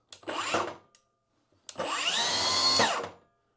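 A Milwaukee track saw starts up for the first time: a short motor burst, a pause, then a longer loud whine that runs steadily and spins down quickly, heard close with no talking.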